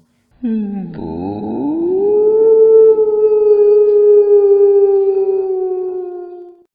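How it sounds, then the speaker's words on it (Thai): A single dog gives one long, loud howl that rises and then holds a steady mournful tone for several seconds before trailing off, close and alone. "กระทั่งเสียงหมาหอนดังขึ้นทุกคนพากันมองหน้ากัน"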